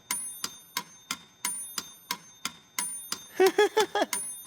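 A metronome ticks at a brisk, even tempo with sharp clicks, and a short, ringing bell chime sounds near the end.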